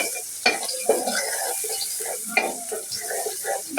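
Chopped onion frying in a pan for a Bengali fish curry, a steady close sizzle with repeated stirring scrapes and spatula knocks throughout, no voices.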